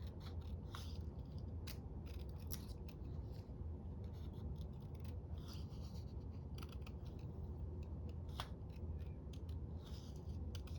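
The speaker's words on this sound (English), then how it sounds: "let's do a little bit of trimming here" Scissors trim paper at a crafting table in quick separate snips, some in pairs, close and crisp over a quiet room, with no talk.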